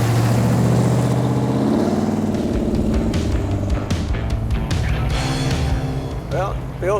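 A Hemi V8 muscle car engine rumbles steadily from inside the car while cruising, a deep continuous drone with slight shifts in pitch and no revving bursts.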